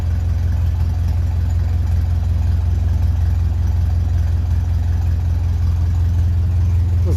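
A 1957 Ferguson 35 tractor engine idles close by, a low, steady, continuous rumbling chug without pause, loud and alone.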